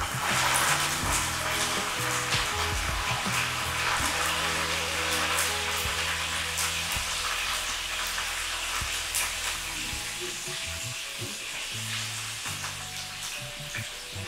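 Curry leaves and mint frying in hot oil for pepper soya 65, a loud continuous crackling sizzle with spoon scrapes and clinks against the pan, steady throughout.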